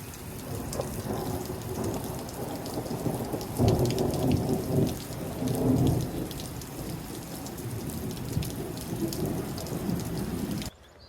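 Rain falls steadily during a thunderstorm, with low rumbling thunder rolling in twice near the middle before the downpour continues alone and then cuts off.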